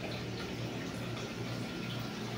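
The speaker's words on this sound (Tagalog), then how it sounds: "Siyempre bago tayo maligo sa swimming pool, kailangan nating mag-shower muna." Shower water running steadily in the shower room of a resort in Liliw, Laguna, a soft, even hiss heard alone with no talking.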